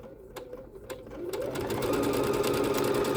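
A Bernette B-77 sewing machine stitching decorative stitch 159, starting with a few separate clicks and then building into a fast, steady, close mechanical whir.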